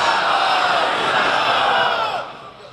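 A large crowd at a religious gathering in Khanewal chanting a religious slogan in unison, a loud sustained roar of voices that cuts off and fades near the end.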